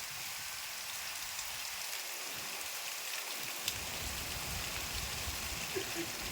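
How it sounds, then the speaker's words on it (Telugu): Steady rain falls beside a house in a dense, even hiss while the sun shines, with a few faint drip taps standing out; no voices. "ఒక పక్క వర్షం చాలా బాగుంది కదా"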